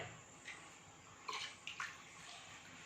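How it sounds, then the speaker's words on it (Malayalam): Water pours quietly into a cooking pot of rasam in a brief, soft splash, with a few small gurgles. "ഞാനിവിടെ 1/2 ഗ്ലാസും കൂടി വെള്ളം ചേർക്കണം"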